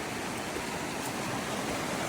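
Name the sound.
creek water flowing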